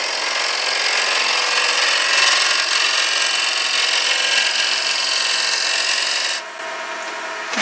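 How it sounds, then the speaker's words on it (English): The tip of a turning tool scrapes along the edge of a wooden button-style Christmas ornament in a continuous, close rasping hiss that drops slightly in level near the end. "I'm just going to use the tip of the tool, the nose of the tool, to come across in a scraping fashion, just to make that edge true"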